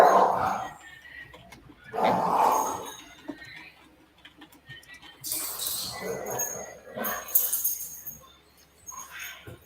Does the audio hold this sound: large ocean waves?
no